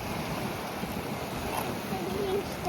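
Strong sea waves wash onto the shore, a continuous broadband roar mixed with wind buffeting the microphone, steady and fairly loud throughout.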